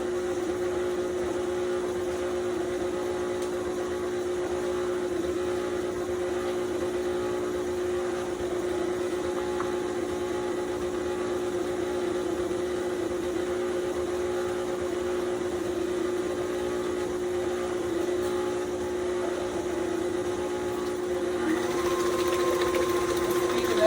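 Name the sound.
mixer mixing buttermilk chocolate pound cake batter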